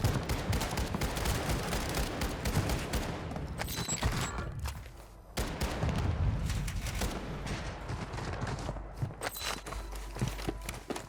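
Warzone 2 gameplay delivers dense volleys of gunfire, with rapid cracking bursts and rattling automatic fire mixed with scuffing footsteps, loud and close, with a brief lull midway.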